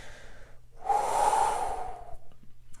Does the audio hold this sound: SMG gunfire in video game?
no